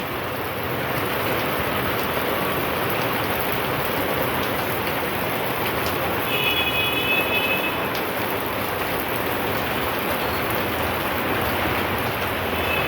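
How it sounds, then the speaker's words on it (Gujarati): Evening rain falls steadily and evenly, a continuous dense hiss of drops on surfaces that stays constant throughout with no voices. "સાંજે 5 વાગે વરસાદ ચાલુ થયો છે."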